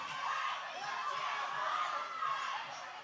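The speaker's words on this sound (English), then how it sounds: "The crowd chanting, let them fight" Wrestling crowd at a live OVW event, a dense, steady roar of many voices filling the arena with loose chanting and cheers, continuous and fairly loud throughout.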